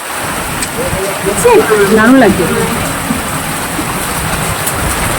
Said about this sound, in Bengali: ঝমঝম ঝমঝম করে বৃষ্টি হচ্ছে